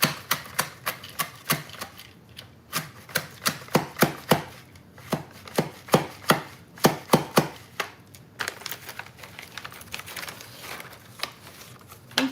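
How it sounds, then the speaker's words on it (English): Knife chopping mushrooms on a board in a home kitchen: a run of sharp, quick taps in uneven bursts, close and fairly loud, slowing and growing sparser toward the end. "Chopping it, all right?"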